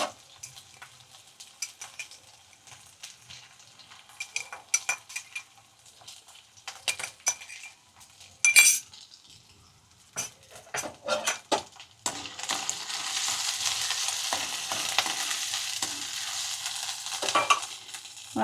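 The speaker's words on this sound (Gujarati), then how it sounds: "હવે આપણે આમાં લીલું લસણ નાખી દેવાનું છે." Green garlic goes into oil in a pan over a low flame: a metal spoon clinks and scrapes against the pan for several seconds, then a loud, steady sizzle takes over and holds to the end.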